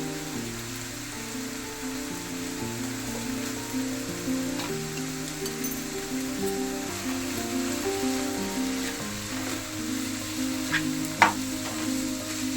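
Masala fried with chili powder, meat and carrot sizzles steadily in the pan, close and continuous, with occasional stirring scrapes under a faint musical background.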